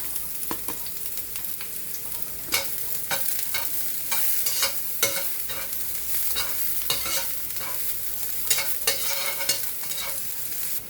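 Garlic sautéing with onion in a clay pot for patola with shrimp, a constant close sizzle punctuated by repeated scraping stirs and utensil knocks, no speech.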